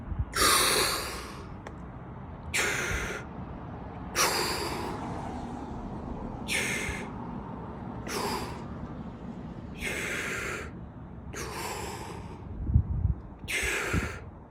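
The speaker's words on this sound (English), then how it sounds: "So it's 30 or 40 super deep breaths" A man demonstrates a breathing technique of deep breaths with only a half exhale, a sequence of about eight loud, close, rushing breaths spaced a couple of seconds apart, with a low background hum between them.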